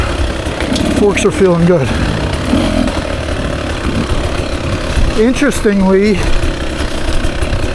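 A 2024 Beta 300 RR Race Edition dirt bike rides over ruts on single track, its two-stroke engine buzzing steadily with two sharp revving bursts, while a rider talks over it throughout.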